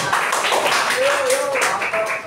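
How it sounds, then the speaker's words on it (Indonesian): Classroom of students clapping for a student group called up to present, a steady dense patter of hands close by, with a brief voice cutting in near the middle. "Buat tepuk tangan buat teman-teman kelompok"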